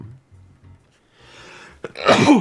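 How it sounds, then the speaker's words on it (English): A single sharp sneeze bursts out close by near the end, preceded by a quick intake of breath and a few soft low murmurs. "I could feel a sneeze coming"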